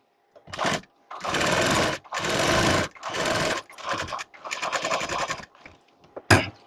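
A sewing machine stitches a blouse in several short bursts of rapid, close mechanical whirring, separated by brief pauses, with a final sharp clack at the end.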